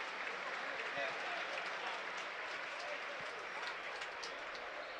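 Football crowd at a Burnley v Southampton Premier League match, singing Sean Dyche songs as a steady, dense, distant wash of massed voices and applause that never lets up.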